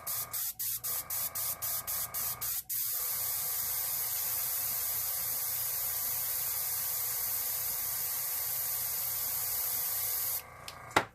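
An airbrush fed by a compressor set near 40 PSI sprays alcohol ink in a string of short rapid bursts, then one long continuous hissing spray that runs for several seconds before cutting off.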